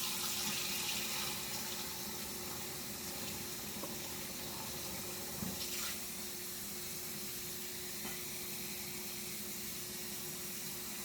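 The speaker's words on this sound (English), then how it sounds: "put your ground beef in, and run the water over it after you put it in there" Tap water runs steadily over ground beef in a kitchen strainer, draining off the grease: a continuous, moderately loud hiss and splash with no breaks and no talking.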